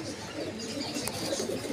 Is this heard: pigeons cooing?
yes